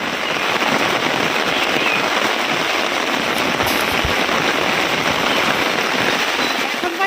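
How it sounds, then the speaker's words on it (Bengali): Sudden rain at night comes down as a loud, constant wash of drops that stays even from start to end, with a few faint pops and muffled sounds in the background. "রাত 9টা আর হঠাৎ করেই বৃষ্টি চলে এসেছে"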